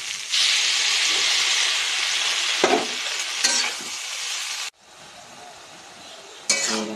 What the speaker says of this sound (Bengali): দেখো সর্ষে ফুটে গেছে